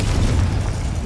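A single muffled, rumbling blast from the Confringo explosive spell in the video game Hogwarts Legacy, a steady low boom lasting about a second with no voices.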